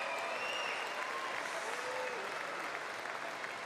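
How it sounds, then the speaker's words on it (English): Audience applause fills a basketball arena for league organiser Marie Taylor, a steady dense wash of clapping throughout, with faint crowd murmur beneath. "I want to have a huge round of applause"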